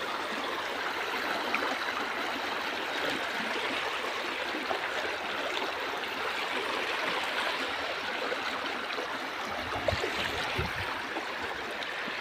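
A river rushes steadily, a continuous hiss of flowing water close by with no breaks.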